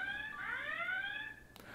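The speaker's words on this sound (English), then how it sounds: "was a demo of how loud the alarm is going to be" A steady electronic home security system alarm tone with rising pitch sweeps, sounding for nearly two seconds at moderate distance and fairly quiet, with no talking.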